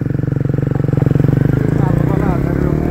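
A motorcycle on a road ride thrums close by with a rapid pulsing engine note that rises slightly, and voices are heard over it.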